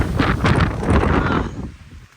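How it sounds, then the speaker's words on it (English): Gusts of wind blowing snow off trees on a mountain rush and roar past the microphone, buffeting loudly for a couple of seconds before dying away to quiet. "Oh, the wind. It's blowing snow off of the trees."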